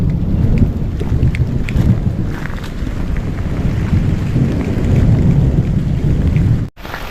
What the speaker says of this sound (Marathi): पावसाने चांगली हजेरी लावली आता पाऊस बाबा पडतोय